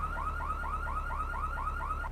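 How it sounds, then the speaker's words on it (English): A GTA III car alarm warbles in steady, rapidly repeating rising sweeps, loud and continuous, with nothing else heard. "Set off the alarm."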